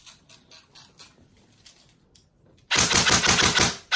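An E&C 802 airsoft rifle, newly tuned with CNC upgrades, fires one loud, rapid full-auto burst of shots near the mic, preceded by quieter mechanical clicking.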